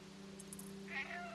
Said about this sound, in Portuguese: eu vou até miar para ser bonitinho